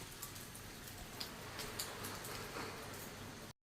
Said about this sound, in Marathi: आमच्याकडे काल सकाळपासून खूप जास्त पाऊस लागतोय